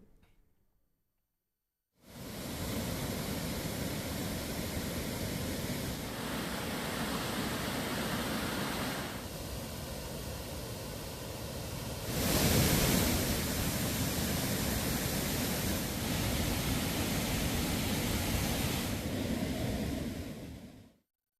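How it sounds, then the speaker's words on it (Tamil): Floodwater from the Bhavani river pours over the Kodiveri dam past its safety railings. The roar is steady, broad and rushing, continues without a break and swells louder midway. "கொடிவேரி அணையிலிருந்து பாதுகாப்பு கம்பிகளை தாண்டி விழுகிறது"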